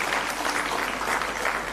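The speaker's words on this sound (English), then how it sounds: "Let's give them a round of applause." Audience at a seminar forum clapping steadily in a hall, a dense even patter of many hands lasting a couple of seconds, moderately loud with no voices over it.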